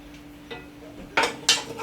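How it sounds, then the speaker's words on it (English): A saucepan clatters as it is pulled out, with a faint knock followed by two sharp, loud metallic clanks in quick succession, close and without talk. "so I'm going to take my saucepan. Sorry if that was a bit loud there"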